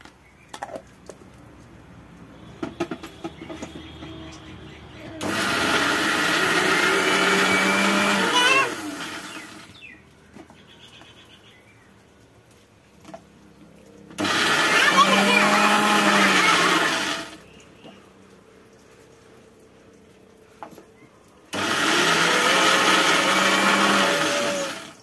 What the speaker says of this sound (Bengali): এই যে আমি সয়াবিনগুলো পেস্ট করে নেব।